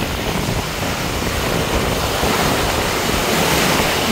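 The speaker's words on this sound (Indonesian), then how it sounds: "Ombaknya yang ganas, ngeri ya." Rough Red Sea surf pounds the shore at Jeddah, a loud, continuous roar of breaking waves with wind buffeting the microphone and no pauses throughout.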